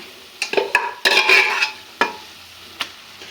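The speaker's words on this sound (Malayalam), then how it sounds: "ഇനി നന്നായിട്ട് ഇളക്കുക" A mixed vegetable dish seasoned with black pepper is stirred in a pan: a few quick scraping and clinking strokes over a soft sizzle, close and brief, no talking.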